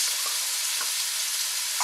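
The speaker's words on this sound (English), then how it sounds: "And now we're going to add in our onions. And our carrots." Chopped onions and carrots hitting hot butter in a pan over medium-high heat, giving a steady, close, broadband sizzle with small crackles throughout, no talking.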